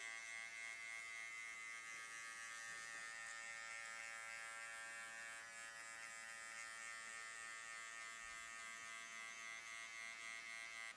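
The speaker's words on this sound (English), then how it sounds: "Comb the hair down with my clipper over comb." Electric hair clippers running clipper-over-comb during a mid drop fade haircut, a steady high-pitched motor buzz held close and unbroken throughout, with no talk.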